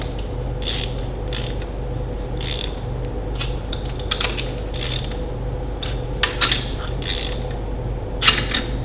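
Wrench or ratchet snugging up bolts on a Ferguson TEA20 tractor, rapid metallic clicking in repeated bursts over a low steady background hum, close and moderately loud.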